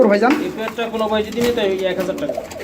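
Giribaz pigeons coo in a close, steady run of throaty calls among a flock kept for sale, with someone talking over them.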